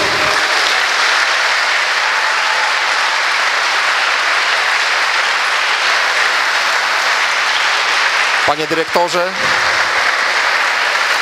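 Loud, sustained audience applause at a 50th-anniversary jubilee gala of MOS Wola school, dense clapping filling the room throughout, with someone briefly speaking near the end over it.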